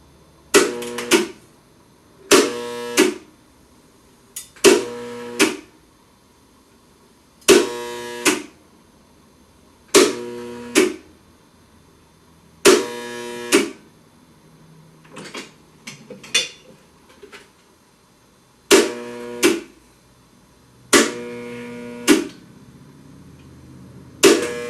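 Spot welder fusing metal rails, a series of about nine sharp, loud buzzing welding bursts spaced every two to three seconds, each cutting off abruptly, with a brief stretch of fainter clattering between them; no talking.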